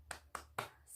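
Three quick, evenly spaced hand claps from children doing a rhythmic spirit-clapping chant in a primary school lesson, faint and crisp with a short pause after the last.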